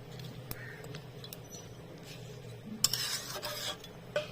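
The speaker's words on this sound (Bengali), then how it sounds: "এখন এই নারিকেলের দুধটা ভালো করে গোস্তের সঙ্গে মিশিয়ে নেব।" A spoon stirs coconut milk into braising duck meat in a pot, with quiet scraping and clinking against the metal, a sharper clatter near the end, and a soft background sizzle.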